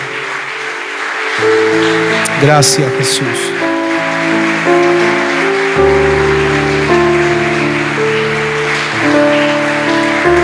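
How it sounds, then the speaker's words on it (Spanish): A church congregation claps their hands as an offering of praise to the Lord during a worship service. The steady clapping runs beneath keyboard music, with a voice speaking over it. "¿Quieres darle una ofrenda de palmas al Señor?"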